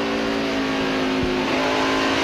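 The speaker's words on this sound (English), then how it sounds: "Hear the engine rev." A NASCAR race car engine at the 2001 Sharpie 500 roars steady and loud throughout, holding a high continuous drone with a slight shift in pitch as it revs on the asphalt track.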